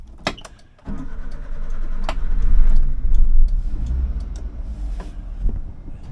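A right-hand drive manual 4x4 minivan cranks briefly and catches, then settles into a loud, steady idle with a deep rumble close by, a few small clicks and rattles on top.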